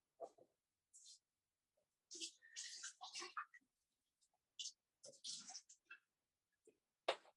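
Watercolour brush being rinsed and the painting water swished clean in a jar, with soft clicks and splashy bursts in separate short spells, close by and fairly quiet.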